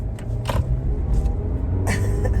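Steady low road rumble of a car interior while driving to a hardware store, with engine and tyre drone throughout and a few brief higher clicks or rattles above it; no talk.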